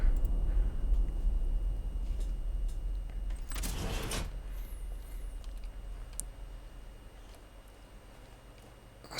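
A door closing in the video game Uru after a lever is pulled, heard as one brief broadband thump and slide about midway, alone over a low ambient hum.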